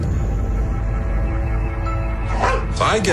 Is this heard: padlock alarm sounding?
no